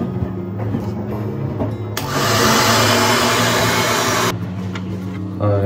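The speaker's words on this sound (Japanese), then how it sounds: "あ、やっぱドライヤーすると違いますね。" A hair dryer blows steadily while drying hair after hair oil is applied, a loud broadband rush for a few seconds in the middle, with quieter room noise and light handling sounds before and after.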